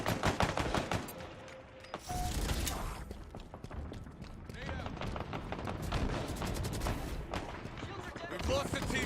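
Rapid bursts of automatic gunfire in a video game, loud and continuous across the moment, with someone talking over the shooting.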